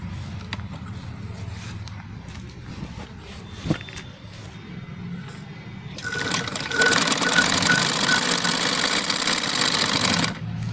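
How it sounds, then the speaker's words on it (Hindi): A sewing machine fitted with a size 18 needle stitches through doubled fabric, running loud and steady for about four seconds after quieter, muffled handling noises. "इस पर आपको सिलाई करके मैं दिखा रहा हूँ कि किस हिसाब से और कैसे सही आती है इसकी सिलाई।"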